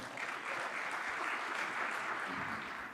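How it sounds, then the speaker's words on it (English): Audience applause greets Mike Francis, CEO and co-founder of Nanotech, as he is introduced to give a talk; a steady, dense wash of clapping lasts about three seconds with no one speaking over it. "Let's give a big round of applause to Mike Francis,"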